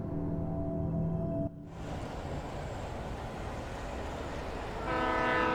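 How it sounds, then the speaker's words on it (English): Train from the Alan Wake video game rumbling steadily close by, with its horn sounding at the start, briefly cutting out, then a sustained horn blast returning near the end. "The trains are coming. Woot woot."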